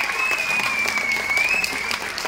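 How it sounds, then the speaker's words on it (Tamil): Crowd applause at a Sivakarthikeyan Ayalaan film event in Tiruppur, sustained dense clapping throughout, fairly loud and even, with a faint steady tone running beneath. "இந்த கைத்தட்டல்கள் எல்லாம் வந்து"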